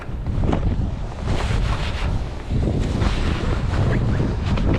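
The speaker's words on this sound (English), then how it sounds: "west wind." Steady west wind buffets the microphone on a lakefront pier in December, a loud continuous roar with gusty swells and a brief lull midway, water lapping faintly underneath.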